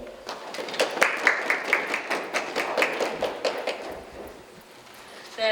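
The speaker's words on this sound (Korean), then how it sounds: "다시 한번 최영화 심의위원장님께 큰 박수 부탁드리도록 하겠습니다." Applause from a seated audience at a Korean construction new-technology day ceremony, a steady patter of many hands that swells, holds for a few seconds, then thins out and fades toward the end.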